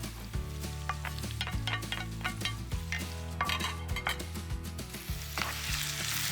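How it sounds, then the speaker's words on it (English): Garlic added to a hot frying pan with eggplant sizzles and crackles steadily and close up, with a few utensil clinks and stirring scrapes over the continuous frying hiss. "Time to add in that garlic."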